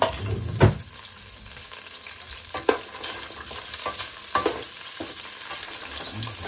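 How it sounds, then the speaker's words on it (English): Garlic sizzles and fries in a pan while being cooked for Portuguese dobrada, a steady close crackle punctuated by several sharp stirring scrapes and clinks, no talking. "Now I put the garlic inside."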